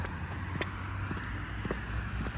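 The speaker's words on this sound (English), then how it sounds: "traffic is louder than usual here" Road traffic passing on a busy stretch of road in Drouin, a steady distant wash of vehicle noise with a low rumble and faint clicks, fairly quiet and continuous with no talk.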